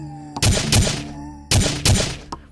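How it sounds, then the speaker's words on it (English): Gunfire in the Roblox game Deadzone: two pairs of loud, close shots, each pair fired about a third of a second apart with a short pause between pairs, followed by a fainter click. "My gunshots drew some attention too"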